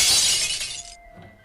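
Glass shatters in a loud, sharp crash, followed by a brief tinkling of falling shards that fades quickly with a faint lingering ring.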